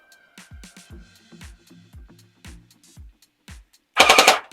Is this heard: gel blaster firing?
yes